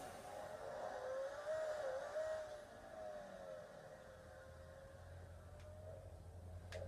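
A car engine drones steadily in GTA 5 under a gritty hum that swells and eases, with no talk over it.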